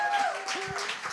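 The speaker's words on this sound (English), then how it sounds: "Let's give Jake a round of applause" Brief burst of audience applause at a community open music session broadcast, scattered clapping filling the short moment with no one talking over it.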